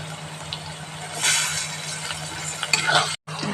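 Chopped potatoes with chillies and kasuri methi frying for fried rice, a bright continuous sizzle with spatula scrapes and light clinks, close and fairly loud, with a steady low hum and a brief dropout near the end.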